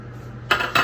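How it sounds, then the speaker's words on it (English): Cooking spray hisses onto a pan in two short bursts in quick succession, close and clear, with no talk. "Right here, you get this cooking spray, and you're not gonna spray a ton."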